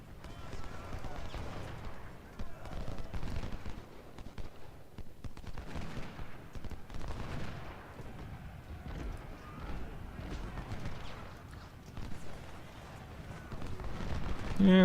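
Artillery fire booms and rumbles continuously in a Civil War battle at Antietam in Ultimate General: Civil War, with dense overlapping low thuds and crackling shots filling the whole stretch, while a voice talks over parts of it.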